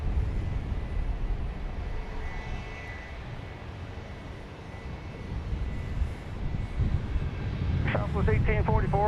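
Engine roar of a Southwest Airlines Boeing 737 MAX 8 jet at an airport, a steady loud rumble that swells toward the end, with people talking over it.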